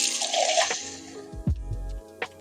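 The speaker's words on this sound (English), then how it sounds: "a tiny bit of water in on the sides just to keep it moist." Water is poured into a pan around an Aldi brisket, giving a short hissing splash followed by a few low gurgles and a soft final drip, close by with no talk.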